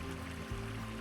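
Cold, clear creek in the remote Alaskan wilderness flowing steadily at close range, a continuous low rushing wash of water with no voices over it.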